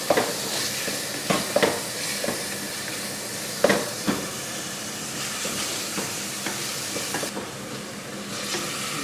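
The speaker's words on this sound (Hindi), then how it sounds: "चिकन डाल दीजिए तो अदरक लहसुन और घी में अच्छी तरह से भूनना" Chicken fries in hot ghee with ginger and garlic, a steady close sizzle with stirring scrapes and a few sharper clacks of the spoon against the pan.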